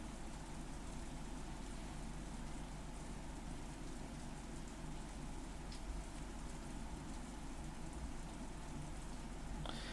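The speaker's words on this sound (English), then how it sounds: "All that could be heard was the sound of the rain" Steady rain falling, a dense even hiss with soft drops, constant and moderately loud throughout with no voices, as used for ambience in the visual novel game Umineko.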